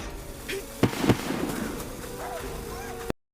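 Firecrackers bursting in an anime scene, with two sharp cracks close together over a busy background of music and effects, ending abruptly.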